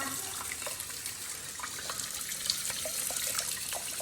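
A tap runs well water into a container, a steady close splashing gurgle with small drips and bubbling, continuous for a few seconds.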